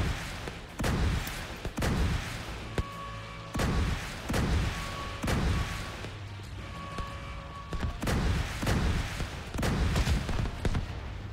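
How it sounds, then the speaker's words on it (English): Missile turrets firing during a boss fight in the Little Huge Gaming Razorback encounter, a rapid series of loud booming launches and blasts at irregular intervals over a constant low rumble and game tones. "Missile turrets activating."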